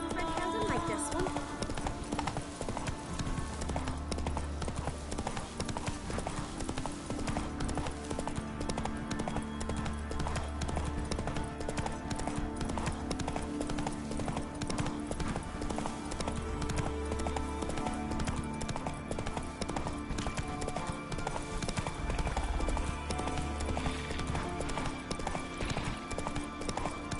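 Roach the horse's hoofbeats in The Witcher 3: Wild Hunt, a steady clip-clop of galloping hooves running the whole way through, loud and close, with game music and a voice talking over them.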